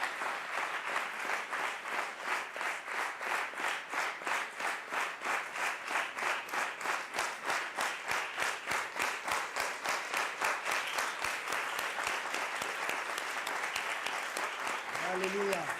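Church congregation clapping steadily in rhythm throughout, a dense, even beat of many hands filling the room, with singing or voices underneath and a brief voice near the end.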